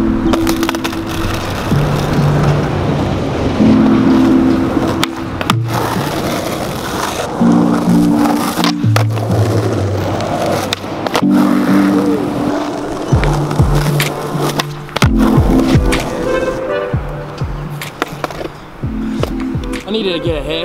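Skateboard on wooden wheelchair ramps: wheels roll and rumble on the ramp surface, punctuated by sharp board pops, clacks and landings, with people talking over it at times.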